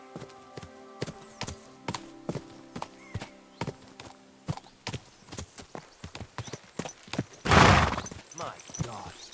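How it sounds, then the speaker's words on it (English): Hooves of a horse in Kingdom Come: Deliverance II clop in a steady walking rhythm, close and distinct, over a soft musical backdrop, with a loud burst near the end. "that looks like a bloody expensive horse"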